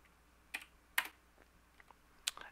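Keys on a computer keyboard are pressed while a console command is typed, a few quiet, close, sharp clicks spaced irregularly over near silence.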